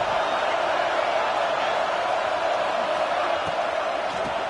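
A stadium crowd in the College Football 26 video game sends up a continuous broad roar, even and sustained throughout, with a few faint whoops rising out of the wash.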